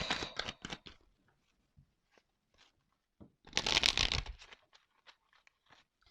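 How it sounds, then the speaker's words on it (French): Tarot cards being shuffled in quick crisp riffling bursts, a cluster at the start and a longer, louder shuffle midway, with sparse card taps between and no talking. "Je vais pas prendre beaucoup de cartes."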